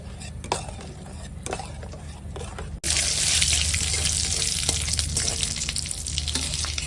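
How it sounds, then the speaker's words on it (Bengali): Dal with turmeric is stirred in a pot over a hot tempering of dried chillies and mustard seeds. A quiet stretch gives way to a steady, fairly loud sizzle with faint scraping. "ডালে হলুদ দিচ্ছি দিয়ে ডালটা ঘেঁটে নেবো"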